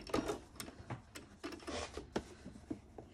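Sewing machine stitching quilted fabric for a quilt-as-you-go zippered pouch, guided by a guide foot: short, quiet bursts of mechanical whirring and clicking, close by, with uneven pauses.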